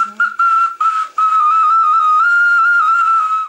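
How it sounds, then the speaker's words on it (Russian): A clay whistle toy plays a bright, piercing whistle, sustained for several seconds with a few short breaks and wavering trills, loud and close, with no talk. "Звучать так может любая глиняная свистулька."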